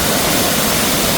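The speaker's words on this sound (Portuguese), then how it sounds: "Olha a altura aqui. Cachoeira do Félix." Cachoeira do Félix, a tall waterfall at a weekend campsite in Bueno Brandão, Minas Gerais, pours with a loud, dense, unbroken roar of falling water heard up close, with no voices.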